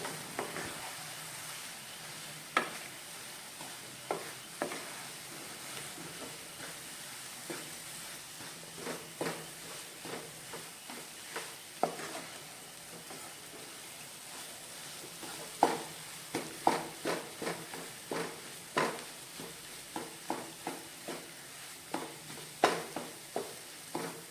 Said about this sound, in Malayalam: റവ ചേർത്ത ശേഷം വളരെ പെട്ടെന്ന് തന്നെ ഇതുപോലെ ഒന്ന് മിക്സ് ചെയ്ത് എടുക്കാം